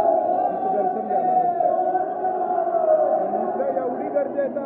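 A large crowd of devotees at the Harishchandragad temple, waiting for darshan, makes a muffled, continuous murmur of many overlapping voices, steady and fairly loud throughout.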